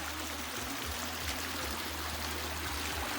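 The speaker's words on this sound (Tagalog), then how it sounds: "Ayan bukal o. Ganda ng tubig o." Spring water runs in a steady, even stream, a continuous rushing wash with no breaks and no voices over it.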